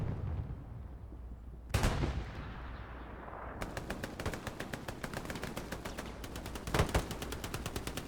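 Gunfire in the World War II shooter Hell Let Loose: two heavy blasts and a long run of rapid machine-gun bursts, loud and close, with distant booms underneath.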